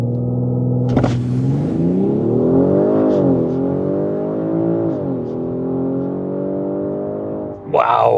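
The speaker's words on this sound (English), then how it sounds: "What else are we going to do with the B58 except test out the launch control function?" A BMW 540i with the B58 engine launches hard under launch control, its exhaust note surging and climbing through the revs, loud and close, with a brief sharp burst near the start and a rising shift at the end.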